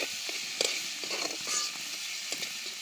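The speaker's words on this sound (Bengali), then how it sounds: "এবার পেঁয়াজ রসুনগুলো ভেজে নেওয়ার পরে শাক দেবো।" Onion and garlic frying in oil for a leafy greens dish, with a steady close sizzle and a few soft stirring scrapes, no talking.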